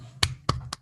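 Participants in an online meeting clap over a call, heard as three sharp, separate hand claps within under a second, thin and moderately loud.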